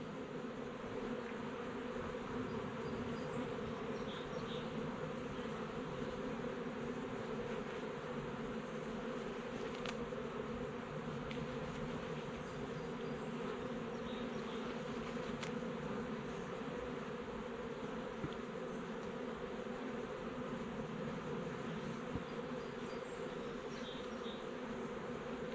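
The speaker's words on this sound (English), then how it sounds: "trying to drive them bees out the end, that hollow end there" Steady, dense buzzing of many honeybees inside a storm-felled hollow tree log, continuous and close for the whole stretch with no talking.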